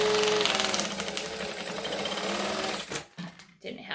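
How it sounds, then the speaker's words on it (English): A sewing machine top-stitches a fabric bag panel, running steadily and loudly for about three seconds. It then stops and gives a few short bursts of stitching. "I always like to stitch this bottom to top."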